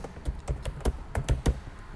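Keys tapped on a computer keyboard, about ten crisp close clicks in an uneven rhythm over two seconds, alone with no speech.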